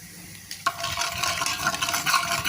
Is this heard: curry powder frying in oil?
yes